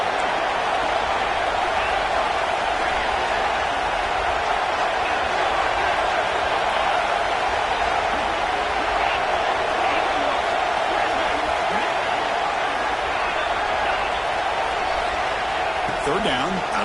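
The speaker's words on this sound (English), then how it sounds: "And here comes the noise. This crowd is trying to inspire this defense to make a big red zone stop." A stadium crowd at a football game roars steadily and loudly through the whole stretch, a dense sustained wall of cheering and noise as fans try to fire up the defense before a red zone stop.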